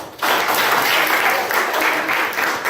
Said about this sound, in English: Mini says clap your hands louder